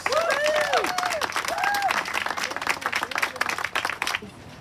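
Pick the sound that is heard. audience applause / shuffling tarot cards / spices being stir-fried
audience applause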